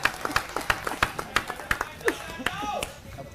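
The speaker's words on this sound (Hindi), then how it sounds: "जोरदार तालियों से स्वागत करेंगे परम आदरणीय श्रीमान अरविंद केजरीवाल जी का।" A crowd at a meeting of Delhi auto drivers claps to welcome Arvind Kejriwal, with sharp irregular hand claps close by while voices talk over them.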